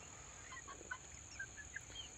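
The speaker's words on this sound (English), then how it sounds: "These are clucking around and doing their" Chickens cluck softly in short, scattered calls, somewhat distant, over a steady background hiss.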